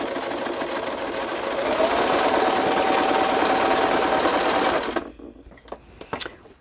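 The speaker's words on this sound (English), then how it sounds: "So I'm just sewing around the edge." Sewing machine stitches around the edge of a paper envelope, a steady close mechanical whir running for about five seconds before stopping abruptly, followed by a few faint clicks and handling noises.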